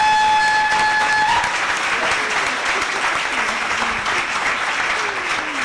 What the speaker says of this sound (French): Je pense que ça mérite une fière main d'applaudissement.